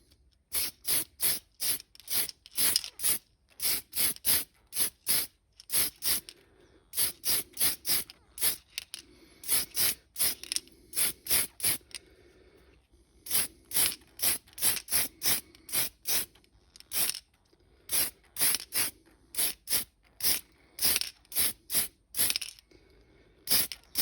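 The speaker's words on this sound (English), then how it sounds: "I'll just spray the whole thing with this colour" Short bursts of aerosol spray paint hiss in a repeated on-off pattern, with brief pauses between groups, close and without talking, spraying a model helicopter.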